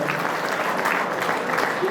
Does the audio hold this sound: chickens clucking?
no